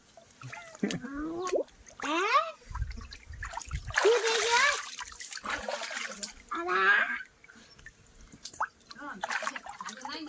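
Someone dives into cold water, which splashes and sloshes in bursts, close by, with voices talking and calling out between the splashes.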